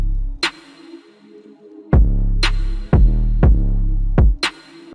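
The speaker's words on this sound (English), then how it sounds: "I just threw a basic chop snare." Crisp chopped snare hits with a tall reverb tail, several strikes spaced out over a deep bass thump in a dark FL Studio beat, loud and upfront with no talking.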